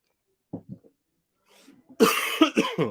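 A couple of short, sharp coughs ring out nearby in a Scout hut, followed after a pause by a burst of talking.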